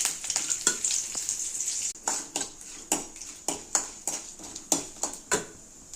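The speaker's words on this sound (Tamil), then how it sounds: "எண்ணெய் ஊற்றிக்கலாம். கடுகு நல்லா பொரிஞ்சதும் கடலைப்பருப்பு உளுத்தம்பருப்பு கொஞ்சமாக கறிவேப்பிலை" Mustard seeds, chana dal, urad dal and curry leaves frying in hot oil for idli upma: a constant high sizzle with repeated sharp pops and spatters in an irregular rhythm, close and moderately loud, with no speech.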